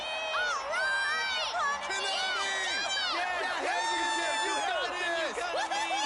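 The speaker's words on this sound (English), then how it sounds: "But they're cheering for Konami-san." A crowd cheering in Persona 4: Dancing All Night: steady whoops and high excited shouts from many voices, sustained and fairly distant, with speech layered over the cheers.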